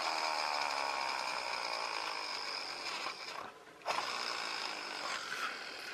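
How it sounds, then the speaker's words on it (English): Friction flywheel motor of a lightweight toy car spins with a steady, close whirring buzz that briefly dips and then resumes, with no talking. "It works as a flywheel motor."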